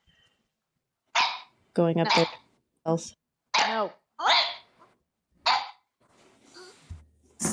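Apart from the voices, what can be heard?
dog barking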